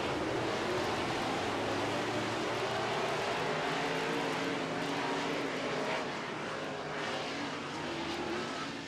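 Modified race cars in heat races on an oval track, a loud continuous engine roar that stays steady and close throughout, with no talk over it.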